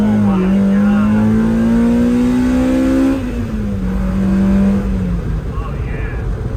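Mazda Miata M2 engine revving loudly and climbing in pitch, then easing off and revving again, close and steady for several seconds, with a person talking briefly over it.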